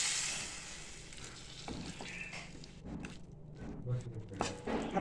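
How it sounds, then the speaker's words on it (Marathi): Brinjal stir-fried in oil with garlic, coconut and spices: a soft continuous sizzle with irregular scraping and stirring strokes, fairly quiet and close. "तर हे असं आता आपल्याला परतवून घ्यायचं आहे वांगं।"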